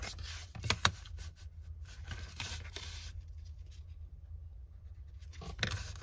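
A pen or pencil marks wallpaper being folded into an envelope, producing a few faint scratchy strokes and soft paper rustles, quiet and close.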